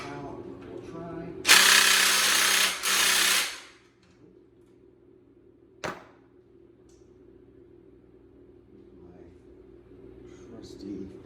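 A power tool whirs loudly for about two seconds in two bursts while working a 14 mm AC bracket bolt on a 1992 Honda Civic Si, followed by a short sharp mechanical clank; a person talks faintly before it.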